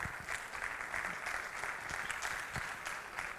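Audience applause welcoming a speaker onto the stage at the Blockchain Jungle event, a dense, even wash of clapping from a crowd, somewhat distant and heard alone throughout.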